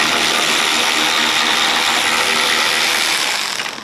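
A ratchet works loose a 10mm bolt on a 2015 Maserati Ghibli bumper, producing a steady, loud, dense clicking close to the listener for a few seconds before trailing off.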